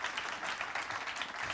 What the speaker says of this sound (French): Vous pouvez applaudir Jean-Pierre si vous vous souvenez.